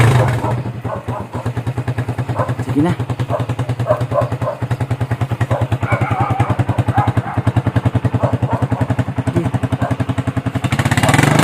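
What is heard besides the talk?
motorcycle riding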